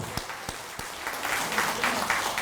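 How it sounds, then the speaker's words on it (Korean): Church congregation applauds, opening with a few distinct claps before a steady, quiet wash of many hands builds and carries on at a distance. "박수 한번 드리죠."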